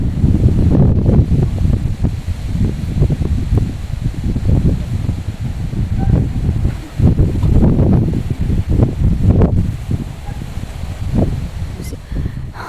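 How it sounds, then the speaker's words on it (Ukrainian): Strong squally wind buffets the microphone in continuous loud gusts with rustling in an open vegetable garden, lasting the whole stretch and rising and falling without letting up. "А чому ж так вітряно? Прям здуває."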